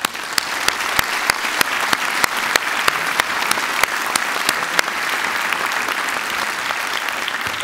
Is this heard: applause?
yes